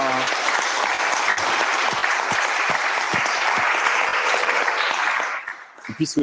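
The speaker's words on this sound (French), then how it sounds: "Je pense qu'on peut les applaudir à nouveau" An audience at a talk on urban farming and vertical farms applauds in a dense, sustained burst of clapping that cuts off near the end, followed by a speaking voice.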